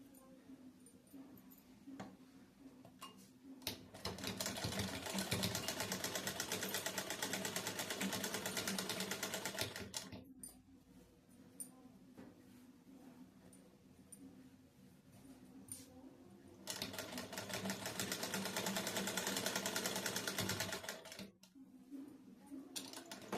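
Two long runs of a sewing machine stitching fabric, a steady mechanical whir at close range separated by a quieter pause, with low background noise between them.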